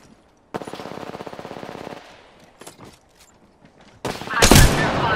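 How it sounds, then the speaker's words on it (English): Automatic weapon fire in a battle royale shooter: a fast, even burst of rapid shots, a few scattered single cracks, then a louder, denser volley with a sharp blast near the end. "Enemy is at location. Firing."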